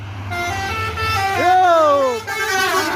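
A bus passes on a roadside with its loud musical multi-tone horn blaring close by over a deep engine rumble, the horn sliding through several pitches.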